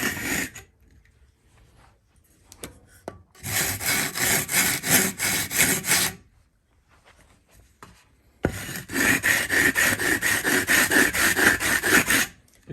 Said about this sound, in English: I've just got a block of wood with a length of sandpaper on it. And this can help me to get a really flat finish.